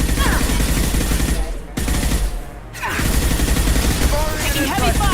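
Heavy automatic gunfire in a Mass Effect battle, loud rapid bursts rattling almost continuously with a brief lull partway through, as voices speak amid the firefight.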